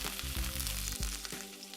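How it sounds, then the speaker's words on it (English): Pot roast sizzles and crackles in hot fat, a soft continuous frying hiss with a few dull knocks, faint and close. "sizzling"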